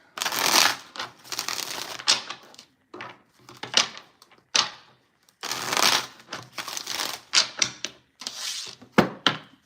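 A deck of cards being shuffled by hand, with bursts of riffling and crisp ruffling separated by short pauses and occasional taps as the cards are squared, close and fairly clear.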